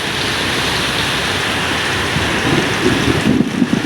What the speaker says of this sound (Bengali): প্রচুর বৃষ্টি এবং আকাশে খুব জোরে জোরে বিদ্যুৎ চমকাচ্ছে এবং গর্জন করছে